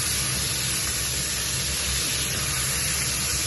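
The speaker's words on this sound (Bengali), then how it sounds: "আমি এদিকে মূলা আলুগুলা ভেজে নিচ্ছি, দিব।" Radish and potato pieces frying in a pan give a steady, dense hiss and sizzle that holds at an even level the whole way through, with no voices over it.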